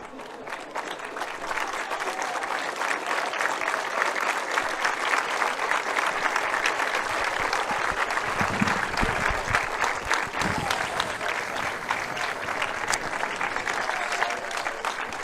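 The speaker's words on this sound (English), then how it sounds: "Applause from the families and supporters from both counties." Families and supporters from two counties applaud at a presentation after a Kildare v Armagh underage Gaelic football final, a dense, loud crowd clapping sustained throughout with a low murmur of voices beneath.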